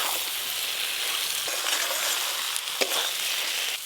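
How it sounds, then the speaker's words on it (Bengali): Fried shankar fish being stirred with spices and softened onions in a hot pan, a steady oily sizzle with soft scraping and a couple of brief clinks, close and continuous with no talking. "ভেজে রাখা মাছগুলো দিয়ে ভালো করে মশলার সাথে মিশিয়ে নেব।"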